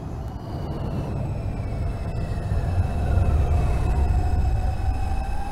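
A New York subway local train on the Lexington Avenue line running in the OpenBVE simulator, steady rolling rumble with rising and falling motor whine, loud and continuous.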